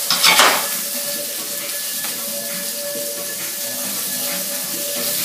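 Shrimp teriyaki sizzles in a hot pan, giving a steady, close hiss that follows a brief clatter of cookware at the start.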